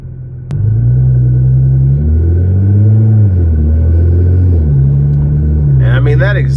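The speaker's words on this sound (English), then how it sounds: "And I mean, that exhaust is just so nice." Upgraded 2014 Nissan GT-R Premium making about 1100 horsepower, its exhaust a loud, steady deep rumble that rises and falls with throttle, with a sharper burst near the end.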